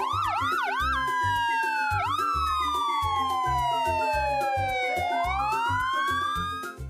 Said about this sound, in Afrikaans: Dit is 'n polisiekar.